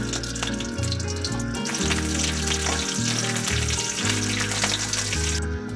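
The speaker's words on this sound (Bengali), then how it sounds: "এতে আমি গোটা জিরে একটু দিয়ে দেবো" Continuous hissing sizzle of whole cumin seeds frying in oil, heard over steady background music with low bass notes.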